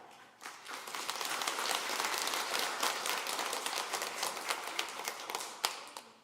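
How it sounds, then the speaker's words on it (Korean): A church congregation gives a warm welcoming applause for a visiting elder at a revival meeting, dense, steady clapping from many hands rising quickly and holding for several seconds before thinning out. "소개할 때 따뜻한 환영의 박수 부탁하겠습니다"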